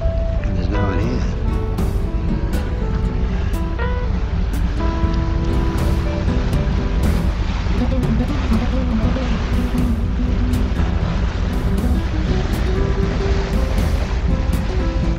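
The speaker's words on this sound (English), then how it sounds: "Pretty windy." Steady, strong wind buffeting the microphone at a ferry dock between Koh Samui and Surat Thani, with surf and water noise underneath and occasional faint sounds in the background.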